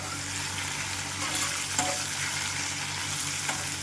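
Green chillies frying in a pan while being stirred, giving a steady, close sizzle and crackle with a few small scrape accents, alone, no voices.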